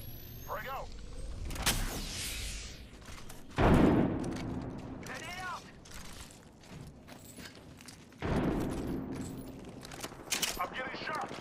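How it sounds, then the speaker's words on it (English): Gunfire exchanged in an Apex Legends battle on PS5, with sharp shots around two, four and eight seconds over a busy game bed; a voice talks intermittently. "I'm getting shot."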